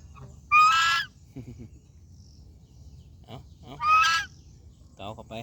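White Chinese geese honk twice in loud, nasal bursts on a morning farm, with softer clucks and brief calls in between over a low background rumble.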